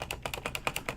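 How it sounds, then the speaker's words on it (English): Keys pressed on a Tandy Color Computer keyboard while editing a BASIC program line, a steady run of about nine close, crisp plastic clicks and thumps with no voices. "so we hit spacebar"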